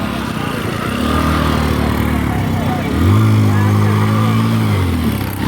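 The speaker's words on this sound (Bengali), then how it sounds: "এক ভাই বাইক দিয়ে স্টান করতেছে" Motorcycle engine revving during stunts on a riverside sandy beach, a steady mid-pitched drone that swells louder and higher around the middle and holds, with people talking over it.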